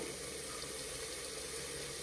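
Coconut milk mixed with water pours into a cooking pot or pressure cooker for coriander vegetable biryani, a continuous close, steady splashing stream with no talk.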